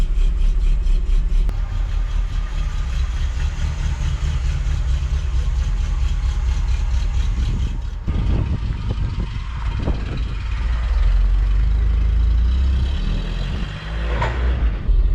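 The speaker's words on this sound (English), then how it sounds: "She's making some strange noises. It's the viscous fan, it's knackered on it, but it actually runs alright." A Triumph TR7 engine, found in a garage after 23 years, idles continuously with a worn viscous fan adding a whirring rattle, its tone shifting midway through with no talking.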